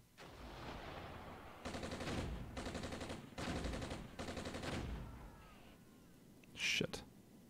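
Sustained gunfire on a unit in the military strategy game Armored Brigade: four long machine-gun bursts in quick succession, followed by a quieter stretch and one sharp loud report near the end.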